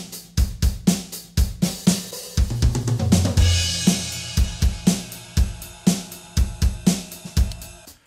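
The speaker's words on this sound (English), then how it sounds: "how does it sound when I have the tutti mic'd sampler instrument on?" Programmed drum kit played through a tutti-miked sampler instrument, with punchy kick and snare hits and cymbal wash in a steady rock groove, full and roomy, no voices.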